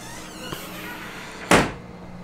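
A hotel room fridge door swings shut with one sharp thud partway through, over quiet room tone.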